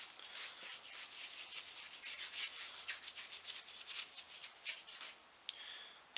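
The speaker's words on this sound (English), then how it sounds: "I'm working this melted wax mixture into all of the crevices using the tip of the brush" A brush works melted wax mixture into the crevices of a heavily carved oak high back chair, giving a steady, close scratchy rubbing with quick repeated strokes and no voices.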